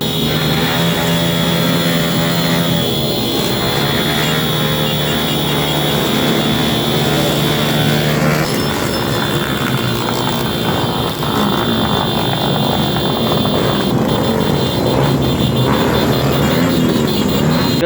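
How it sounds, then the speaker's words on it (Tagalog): Several motorcycle engines drone and rev together loudly and continuously, a dense mechanical roar with no pauses. "talagang puro tunog lang ng motor ang maririnig mo"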